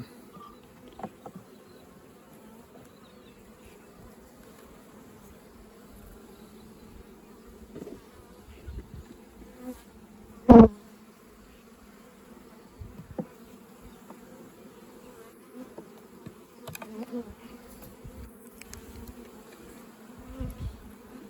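Honey bees buzz steadily around open beehives, a continuous low drone with occasional closer passes and one sharp nearby knock midway.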